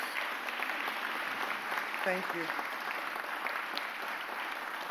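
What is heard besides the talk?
audience applause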